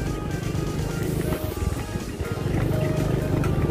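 Steady rumbling engine drone from an unrepaired, noisy motorcycle, continuous and fairly loud, with wind and road noise mixed in.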